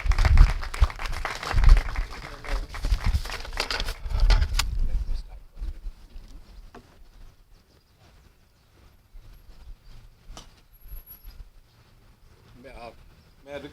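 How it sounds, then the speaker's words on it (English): A burst of applause from a ceremony audience, loud for about five seconds, then fading into a quiet room with faint movement and murmurs. "please give them a round of applause."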